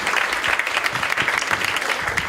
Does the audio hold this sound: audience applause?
yes